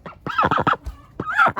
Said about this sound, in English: Here's a grumpy duck.